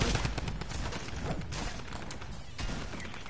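Gunfire in the Fortnite video game: a dense, sustained fusillade of shots and impacts that fills the whole moment, loud and continuous, with a few sharper bursts.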